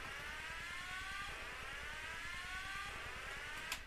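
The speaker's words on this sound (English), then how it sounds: "Cool siren crowd combo effects from Tasoki." A siren and crowd sound-effect combo from Tasoki, with a wailing siren sweeping up and down over a dense, steady wash of noise, loud and continuous throughout.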